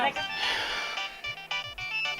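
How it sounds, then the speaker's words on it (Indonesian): A mobile phone ringtone plays on and on in a home, a steady looping melody, with voices talking over it. "itu HP siapa sih yang bunyi terus?"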